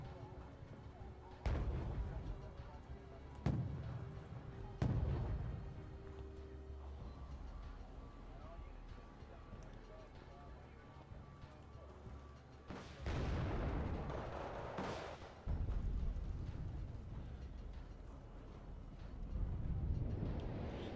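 Bombs dropping and exploding in the real-time strategy video game Wargame: Red Dragon, heard as several heavy booms and rumbling blasts, some close together, under a steady game background mix with a commentator talking.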